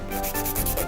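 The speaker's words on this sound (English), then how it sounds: "So now I'm going to round out the other side to match it." A hand file rounding the side of a fingernail during nail shaping, a brief, close rasping rub made of several quick scraping strokes.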